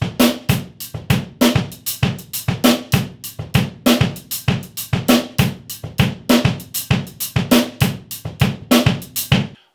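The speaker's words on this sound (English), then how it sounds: "So we're going to linearize beats 1 and 4 in the rock groove." Drum kit playing a linear rock groove, with a steady repeating pattern of crisp hi-hat, kick and snare hits that never land together, close and clear with no talking.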